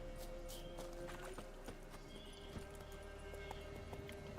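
Faint, distant hoofbeats from the horse Roach galloping in The Witcher 3 video game, a steady run of clops under a soft ambient music bed and background hum.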